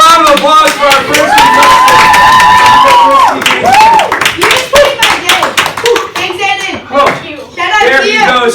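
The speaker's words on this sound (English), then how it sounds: "A round of applause for our first" Middle school classroom game show audience clapping and cheering, sharp individual claps mixed with shouts and loud voices over several seconds.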